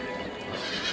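Horse at a breeding-farm showing in an indoor riding hall in Skagafjörður, Iceland, gives a close, loud whinny over a steady wash of hall noise and faint hoof clatter throughout the brief moment.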